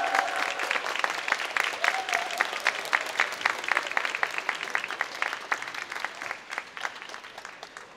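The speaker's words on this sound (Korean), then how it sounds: "박수 부탁드립니다" An audience at a talk-concert event with the Seoul mayor gives sustained applause, dense clapping that stays fairly loud and slowly tapers over several seconds.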